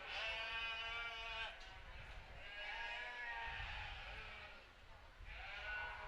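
Sheep bleat at an FFA sheep showmanship event at a county fair: three long, wavering bleats come one after another, fairly close, over quiet arena background noise.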